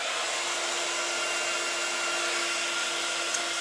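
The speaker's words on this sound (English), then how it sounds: "you can grab your heat gun, just bear with the noise" Heat gun blowing to dry cardstock during card making, a steady, constant hair-dryer-like rush of air with a fixed motor hum, close and unchanging throughout.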